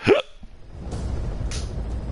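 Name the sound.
hiccup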